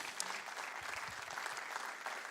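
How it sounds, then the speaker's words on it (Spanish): A church congregation claps together in a dense, steady burst of applause, fairly faint and even from start to finish, with a voice faintly underneath. "Denle un fuerte aplauso a Dios por eso."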